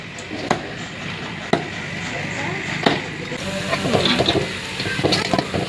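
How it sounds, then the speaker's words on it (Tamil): Meat being chopped for biryani, a few sharp, well-spaced cleaver thuds over an outdoor sizzle and hiss, with a person talking throughout. "பிரியாணிக்கு கறி வெட்டிட்டு இருக்கிறாரு கிருபா."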